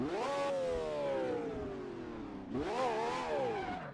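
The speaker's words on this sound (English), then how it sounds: "So I guess this is the V12 model of said car." A high-revving V12 car engine in the racing game Automobilista climbs in pitch, drops, then surges again, loud and continuous.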